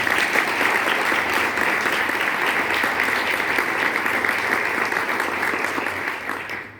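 An audience at a health prevention talk gives a sponsor sustained, even applause, a full steady wash of clapping that thins and fades near the end.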